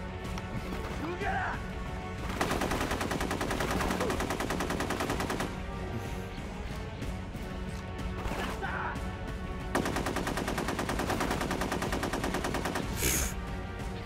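Rapid automatic gunfire from the video game Rogue Warrior rattles in long, dense bursts with short gaps, loud and continuous, while a voice talks over parts of it.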